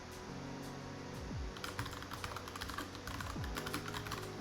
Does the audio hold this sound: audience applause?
no